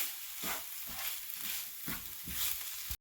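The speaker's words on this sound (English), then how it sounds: "Now I'm going to saute all of these together." Saltfish and vegetables sauteing in a pan for Jamaican steamed callaloo, a steady close sizzle with periodic bursts of stirring and scraping, no voices.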